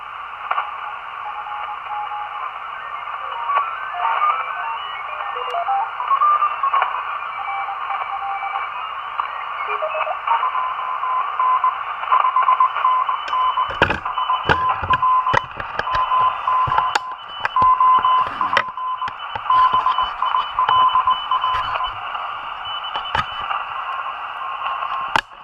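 A homemade Simpleceiver Plus superheterodyne radio receiver plays through its sideband filter, giving a steady, narrow-band hiss with faint whistling tones. Sharp crackles and static bursts pile up through the second half.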